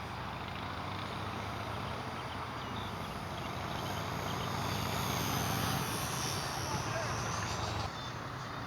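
An electric RC Supercub model airplane with a lithium polymer battery flies overhead in wind, a steady whining, buzzing motor drone that swells and fades slightly over several seconds, with wind noise and faint voices.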